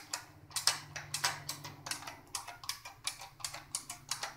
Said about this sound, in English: And so if I push on various keys of the keyboard,